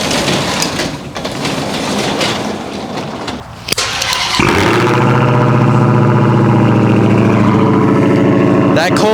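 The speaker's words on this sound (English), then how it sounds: "That cold start is so freaking loud." A Dodge Hellcat cold starts in a garage: a brief starter crank and bark, then a loud, steady, rumbling idle with a whining tone, following a stretch of background noise and movement.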